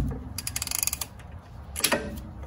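A hand ratchet cranks down axle bolts on a 2000 Jeep Cherokee Classic, giving a rapid run of close, loud metallic clicks followed after a pause by a few more ratcheting strokes.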